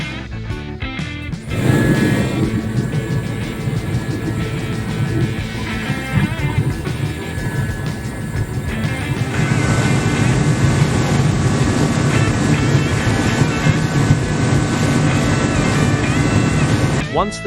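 A diesel construction fan heater runs with a loud, steady roar and whooshing airflow, the blast swelling strongly after a quiet start and holding continuous throughout; a voice talks over it.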